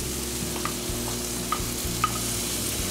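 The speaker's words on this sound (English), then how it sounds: "Now we want to add our tomatoes" Tomatoes go into a pan where mushrooms, onions and garlic are already cooking, giving a steady close sizzle with a few soft scraping stirs and light clicks, and no talking.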